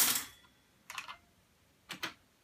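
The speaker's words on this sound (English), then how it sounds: "And again, we're going to type toast" Keys tapped on a computer keyboard: a short burst at the start, then two small clusters of clicks, close and crisp, with quiet pauses between and no voices.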